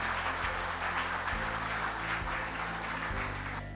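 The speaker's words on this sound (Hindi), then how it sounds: "एक बार जोरदार तालियां हो जाए आप सभी लोगों के लिए" Steady applause from an audience at an indoor business seminar, a continuous even wash of many hands clapping, moderately faint and with no talk.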